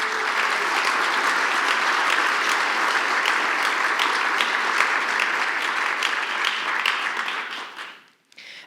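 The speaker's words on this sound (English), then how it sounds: "Let's give them a round of applause." Sustained round of audience applause at an evening ceremony honoring Girl Scout troops after a color guard presentation, steady dense clapping that holds for about eight seconds before cutting off abruptly.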